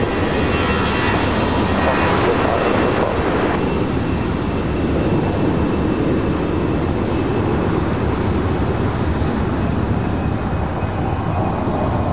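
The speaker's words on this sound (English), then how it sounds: "787-10 Dreamliner heading back to Amsterdam. Lighting up, should be a north side takeoff." A Boeing 787-10 Dreamliner jet bound for Amsterdam takes off from LAX on a north side runway, a steady, loud broadband engine roar filling the whole stretch without pause.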